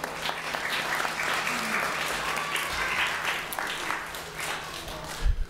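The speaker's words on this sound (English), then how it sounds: "Let's give him a round of applause." An outdoor crowd at the Black American Heritage Flag Raising ceremony in Springfield claps steadily for several seconds, a dense and moderately loud patter of many hands, with a low steady hum underneath.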